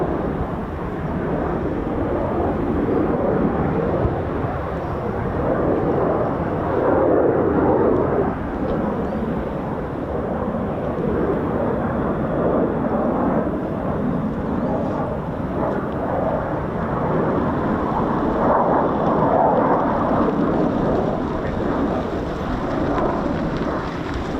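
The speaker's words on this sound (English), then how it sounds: "The other F-15's called out a stop, and this one's doing a low approach." Broad, roaring jet noise from an F-15 fighter making a low approach at RAF Lakenheath, sustained and loud for the whole span with slow swells in intensity and no clear speech.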